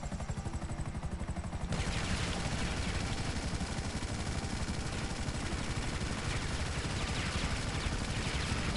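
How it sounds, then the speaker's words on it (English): Rapid, heavy cannon fire pounds continuously over the drone of a Hind helicopter in GTA V, loud and relentless. "I'll see if I can actually get them with the cannon"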